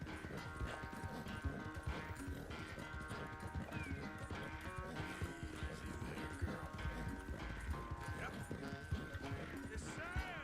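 A horse gallops in a video game, its steady clip-clop hoofbeats running under background music and a voice talking over the action.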